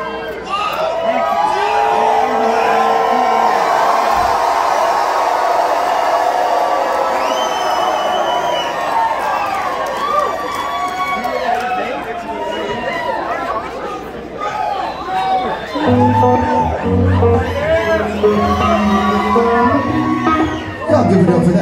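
At a live reggae show in a club, a concert crowd cheers, whoops and screams loudly, the roar sustained throughout, then thinning into chatter with a voice talking over it near the end.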